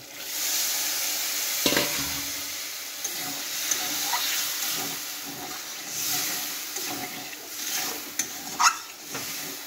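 Turnip boiling water poured into a pan of frying masala for a turnip and potato dalna sets off a continuous sizzle and hiss, with occasional scraping stirs and small pops.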